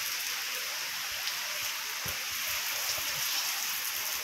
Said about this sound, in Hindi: वाह क्या बारिश आ रही है बाबा, जोरदार।